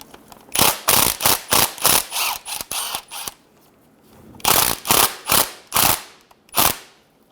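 A ratchet loosens a bolt on a 2000-2007 Ford Focus transmission, loud close clicking in quick bursts of strokes, a pause, then a second run of clicks, with no talk.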